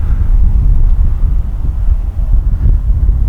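Steady wind gusts buffet the microphone at an RC glider flying field, a low, close rumbling roar with no voices.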